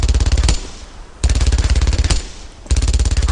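Sustained machine-gun bursts in Brothers In Arms: Earned In Blood, three loud, rapid, evenly spaced volleys separated by brief gaps of quieter ringing.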